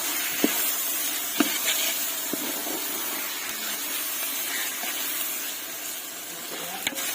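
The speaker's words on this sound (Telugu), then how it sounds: "టమోటాలు కూడా ఆయిల్లో బాగా మగ్గించుకున్నాము" Tomatoes, a kilo of them, frying in oil for a large chicken curry, a steady hiss and sizzle with occasional faint clicks and stirring knocks, no talking.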